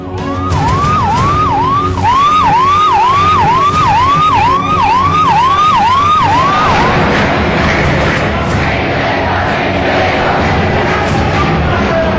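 An ambulance siren wails in a fast, regular rising-and-falling cycle at a student protest at JNU, loud and close. It cuts out partway through, leaving crowd noise and traffic rumble.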